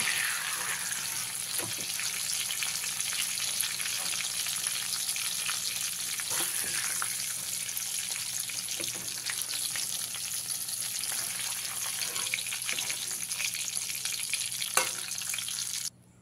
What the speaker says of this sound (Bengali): গ্যাসের ফ্লেমটাকে মিডিয়ামে রেখে পটলগুলোকে ভেজে নিয়েছি।